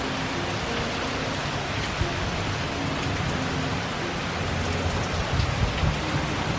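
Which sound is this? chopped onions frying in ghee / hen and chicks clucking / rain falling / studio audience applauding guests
rain falling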